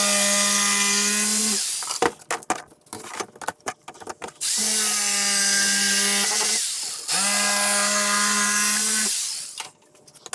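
A jigsaw cuts clamped wood for van kitchen shelves in three loud, sustained runs of whining motor buzz. Between the cuts come clattering, knocking pauses, and no one talks.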